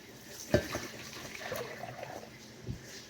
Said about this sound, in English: I'm going to dump this into my sanitized pot